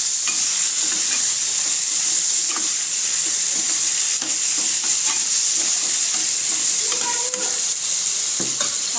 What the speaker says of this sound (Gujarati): આ સરગવાની શીંગું છે અને બધું સરસ રીતે મિક્સ કરી લઈશું